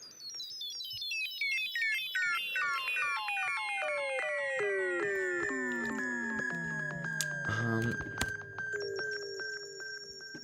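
Synthesizer user oscillator swept by an LFO, producing a dense cascade of stepped, repeatedly falling pitched tones that glide downward in rapid overlapping runs, loud and continuous with a brief noisy burst near the end.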